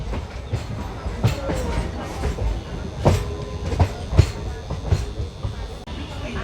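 A local train on the Ranaghat to Bongaon line changes tracks as it nears Bongaon station. Wheels clack and thump rhythmically over the rails with a steady rumble, heard up close from on board.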